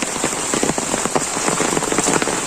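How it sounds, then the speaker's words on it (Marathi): Steady rain patters hard on a surface close by in a village, a dense continuous hiss with scattered drips and no voices. "पाऊस बराच 2-4 दिवस झालं"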